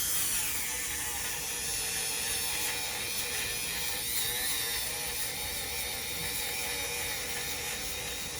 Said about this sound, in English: have to be very mindful that this is a Dremel.